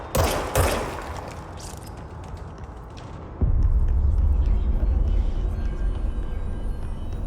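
Rapid bursts of gunfire in the video game Control crackle early on, followed by a sudden, sustained low rumble that carries on loudly to the end.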